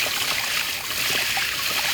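Water runs steadily from a shallow well, a loud continuous hissing rush with a bright, even splashing texture, close by and with no voices over it.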